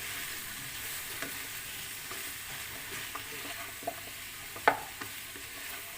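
Pork being stirred in a hot frying pan for ginataang kalabasa, a steady sizzle with scattered scrapes and clinks of the utensil, one sharper knock near the end, no talking.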